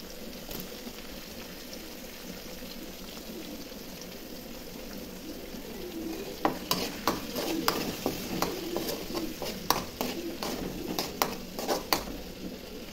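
Tomatoes added to onions already fried with turmeric in a pan: a steady low sizzle, then about six seconds in, a run of sharp spoon scrapes and clatters as the mixture is stirred, close and alone with no talk.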